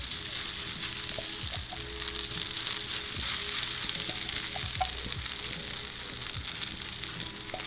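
Noodles frying in olive oil with chorizo in a pan, a loud, continuous close-up sizzle with crackling pops throughout.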